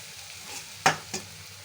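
Chicken pieces sizzle faintly in a hot pan with cumin and coriander powder, a steady low hiss broken by two sharp clatters from stirring or pieces dropping in.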